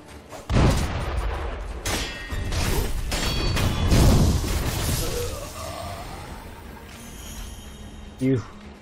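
Shotgun blasts in Sekiro: Shadows Die Twice, heavy booming gunfire and crashing impacts in a game scene, loud and close, with a sharp final shot near the end.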